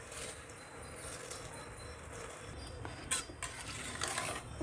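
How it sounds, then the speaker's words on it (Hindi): A spoon stirs lentils and rice in a pot of boiling water, giving a faint, steady bubbling hiss with soft scraping and a couple of light metallic clinks against the pot. "दाल और चावल को बराबर से मिक्स कर लेंगे।"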